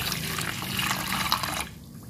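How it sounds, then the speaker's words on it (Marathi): Water is poured into a bowl of roasted barnyard millet to soak it, a steady close splashing pour that cuts off abruptly near the end. "ही अशी भाजलेली बगर यात आपण पाणी टाकून घेऊया"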